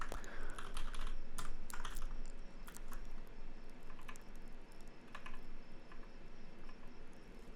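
Steady typing on a computer keyboard at a desk while coding, a quiet stream of close clicking keystrokes in uneven bursts, heard alone.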